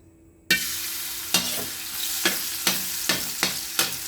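Garlic hits hot oil with a sudden loud sizzle for a broccoli, cauliflower and shrimp dish, then frying continues steadily, marked by about six rhythmic stirring scrapes at regular intervals.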